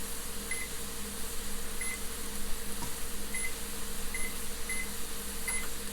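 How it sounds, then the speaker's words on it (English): Oven control panel beeping while its temperature is reset to 375, several short faint electronic beeps spaced irregularly over a steady background hum. "I'm going to go ahead and reset my oven to it actually cooks at 375"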